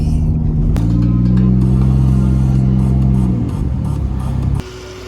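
A turbocharged Mercedes M104 engine idles and briefly revs, heard loud and close from inside the engine bay, with a steady droning hum and a clunk before it settles to a lower idle.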